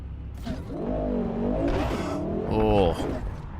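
Car engine in the video game Cyberpunk 2077 revving with rising pitch and a brief tire squeal near the end, loud and steady for a few seconds, with a voice talking over it.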